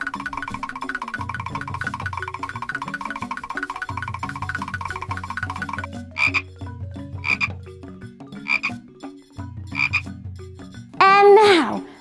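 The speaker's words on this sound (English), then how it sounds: "And now let's jump like a frog." Cartoonish frog croaks in a children's sports song: after a stretch of upbeat music, several separate croaks ring out at spaced intervals, ending with a louder warbling call.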